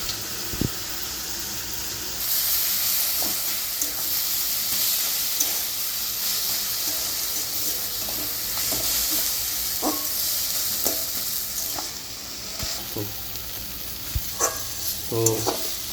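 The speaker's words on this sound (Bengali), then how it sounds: "তো কচুর শাকটা ঘাটতে ঘাটতে এখন অতটা শাক এইটুকু হয়ে এসছে" Taro leaves (kochu shak) stirred and fried in a pan, a continuous sizzle and hiss with scattered scraping and clinking of the spatula, some sharper knocks near the end, and no talking.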